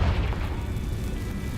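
A fire spell detonating in the game Hogwarts Legacy: a soft, muffled boom that opens with a thump and trails off into a low rumbling tail, fairly quiet overall.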